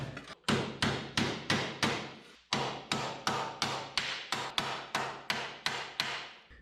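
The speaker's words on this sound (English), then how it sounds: "We're gonna hammer this down." Steady hammer blows ring out on a 1967 Toyota Stout truck's metal, about seventeen sharp strikes in an even rhythm with a brief pause early on, loud and close with a metallic bang.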